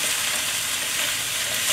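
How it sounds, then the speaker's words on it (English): Cucumber stir-fries in a hot pan with a constant close sizzle and light stirring scrapes, a quick vegetable-and-pasta meal cooked alongside congee. "Cucumber actually is really good for stir fry."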